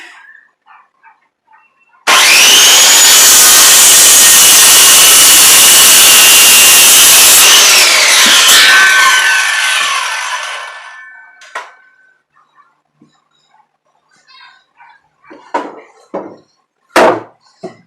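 A handsaw cuts about half an inch off a wooden sawhorse leg in one loud, continuous rasping run of several seconds that trails off. A few knocks and small handling sounds follow.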